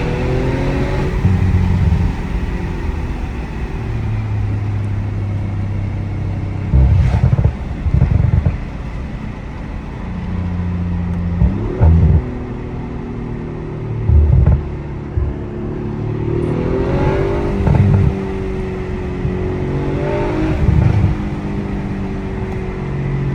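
An Audi RS5 making over 500 horsepower, stock apart from a resonator delete, driven through a forest. The engine drones under load and rises through several gears, with short loud revving bursts between shifts and no talking.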